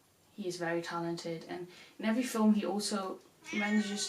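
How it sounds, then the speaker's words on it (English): A pet cat meows in several drawn-out, tonal calls with pauses between them, close and clear, while a person talks over part of it. "That's my cat."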